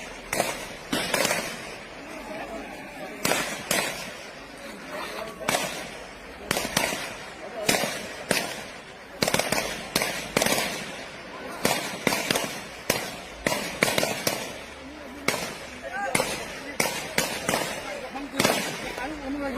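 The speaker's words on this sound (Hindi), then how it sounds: "यहाँ पे देखिए, अल्फा फायरिंग स्टार्ट हो गया है।" Sharp gunshot reports of a ceremonial gun salute crack out repeatedly over about twenty seconds, some in quick clusters and others spaced apart, loud and reverberant with voices and crowd noise underneath.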